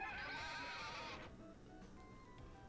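Winnie the horse in the farming game A Wonderful Life gives a single bright whinny lasting about a second, fairly faint, then fades into quiet background ambience.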